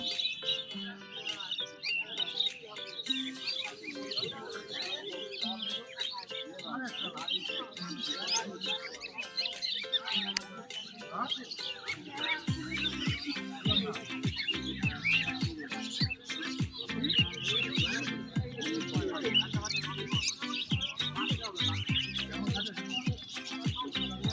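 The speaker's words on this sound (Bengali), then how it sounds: "কোন ধরনের কবুতর দেখতে খুব সুন্দর লাগছে" At a rural animal and bird market, small birds chirp busily and pigeons coo in a crowded, noisy scene, with voices talking over the steady chorus of calls.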